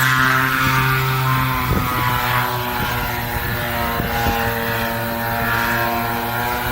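A hand-propped propeller aircraft engine runs loud and close at a steady droning tone with strong harmonic hum, continuous throughout with slight fluctuations in pitch and intensity, set at a mountain airfield.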